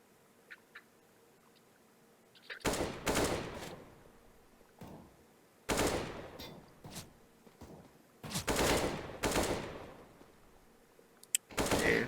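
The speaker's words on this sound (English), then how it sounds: "some shots being exchanged" Rifle gunfire exchanged during a Counter-Strike: Global Offensive tournament round: four separate bursts of shots, some short and some lasting about a second, split by quiet gaps, with no talk over them.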